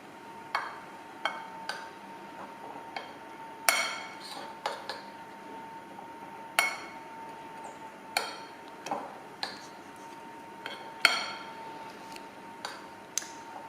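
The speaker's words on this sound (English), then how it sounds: "you're basically just stirring that" A spoon clinks and taps against a bowl while desiccated coconut and almond powder are stirred, giving irregular sharp metallic ticks at close range over a quiet background.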